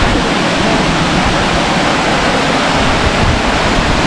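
A small waterfall in a forest, running with little water after a spell without rain, gives a steady, close, broadband rush of falling water that holds level and unbroken throughout, with no voices.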